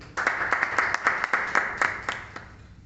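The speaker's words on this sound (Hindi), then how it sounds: "तो इनके लिए जोरदार तालियां।" An audience at a women's day event applauds with a steady burst of close, crisp clapping that holds for a few seconds and then begins to thin out.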